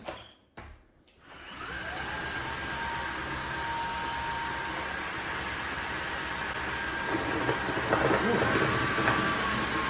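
Dreame H12 Pro wet dry vacuum starting up with a few clicks, then a loud steady suction roar and rising motor whine as it slurps up raw eggs and marinara sauce from the floor.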